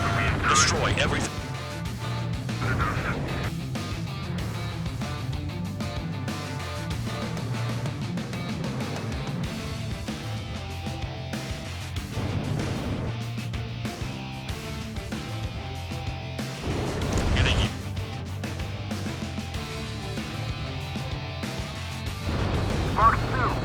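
Ace Combat 7 combat against warships fills the mix with repeated explosions and bursts of gunfire, several heavy booms standing out from a continuous game soundtrack, with a voice talking over parts of it.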